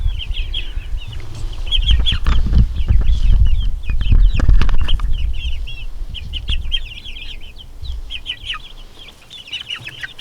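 Juvenile chicks in a coop cluck and chirp repeatedly at close range, with scratching and handling noises as someone moves among them, no talking.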